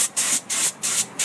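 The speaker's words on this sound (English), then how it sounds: "Redneck spray tan." Short aerosol-style spray bursts from a redneck spray tan: four loud, evenly spaced hissing blasts with brief gaps between them, close up and alone.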